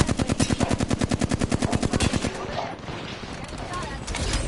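Rapid automatic gunfire in the Apex Legends video game: a close, loud burst of evenly spaced shots lasting about two seconds, then fading into noisy in-game ambience.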